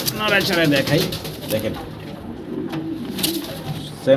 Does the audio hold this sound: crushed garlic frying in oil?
no